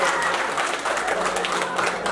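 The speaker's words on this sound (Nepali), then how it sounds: "अब जोरदार ताली ठोकिदिनुहोस्." Audience at an honour award ceremony claps loudly and continuously in a dense, even burst, with voices faintly mixed into the crowd noise.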